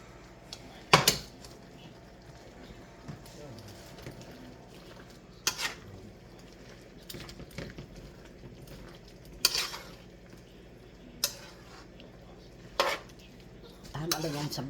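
Cabbage, broccoli and cauliflower are stir-fried for chow mein, with a low background of cooking noise broken by sharp, scattered clanks of a utensil against the pan every few seconds.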